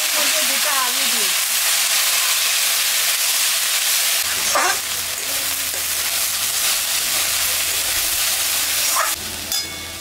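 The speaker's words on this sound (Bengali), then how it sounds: "আতপ চালটা এখন আমি একটু ভাজে নেব" Atap rice frying in a hot pan gives a steady, loud sizzling hiss, broken by a couple of brief scraping stir sounds.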